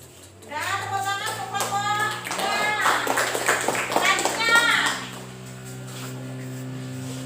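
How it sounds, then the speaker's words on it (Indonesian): Classroom applause for a student group during a seventh-grade lesson, a burst of many hands clapping with children's voices mixed in, rising quickly and fading after about four seconds to a low room hum. "tepuk tangan untuk kelompok"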